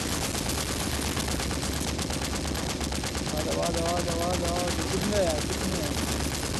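Rapid automatic gunfire from Into The Dead 2 rattles continuously at full loudness, a dense unbroken burst with someone talking over it.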